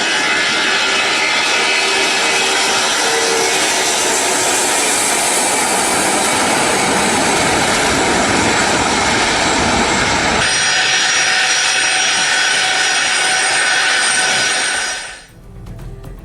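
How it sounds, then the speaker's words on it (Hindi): Aircraft engines of the Russian doomsday plane roar loudly and steadily, a continuous close jet drone that holds for about fifteen seconds, then cuts off abruptly. "दावा यह कि रूस ने अपना बेहद सुरक्षित डूम्सडे प्लेन तेहरान भेजा है"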